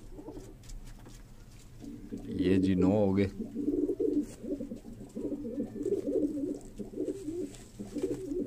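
Pigeon coos from breeder birds in a loft, a burst of deep rolling calls near the start followed by repeated cooing with someone talking over them throughout.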